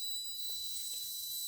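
A solar-powered IoT roadside accident alert beacon gives a steady, high-pitched electronic alarm tone that starts partway in and holds continuously, loud and alone with no talking.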